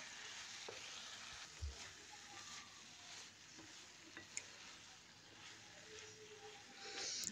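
Green onion filling sizzling in olive oil in a pan, a steady soft fry with occasional stirring scrapes and small clicks, close and fairly quiet with no talk.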